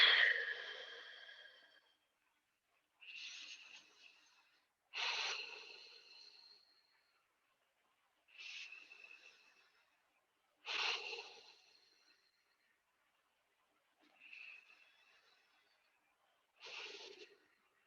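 Deep, slow breaths during a yoga session come as seven separate airy, rasping exhales spaced a few seconds apart, each fading out into silence, close and quiet with no talk.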